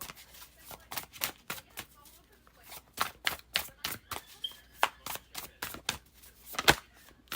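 Tarot cards are shuffled by hand in a quick series of crisp, separate riffling snaps and flicks, close and fairly quiet, the bursts coming in an irregular rhythm.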